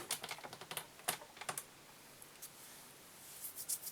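Gel spun thread being snipped off while tying a pike fly, a quiet cluster of light clicky snips and taps up close, then a faint pause before a few more soft clicks.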